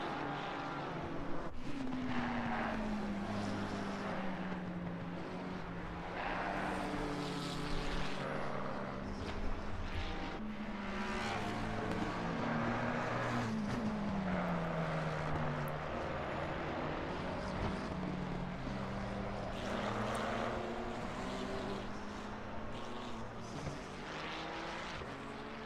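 A Ferrari race car in a racing video game league at COTA roars continuously, its engine pitch sweeping up and down through gear changes at close, steady volume.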